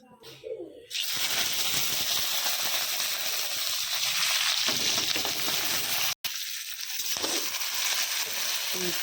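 Green chilies and onion hit hot oil with cumin, setting off a loud, steady hiss and crackle that fills the whole stretch with one brief dropout.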